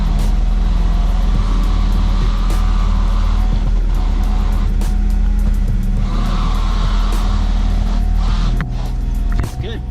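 Honda Del Sol with a swapped B20 engine driving, a steady loud engine drone with low rumble held throughout, close and continuous with no talk.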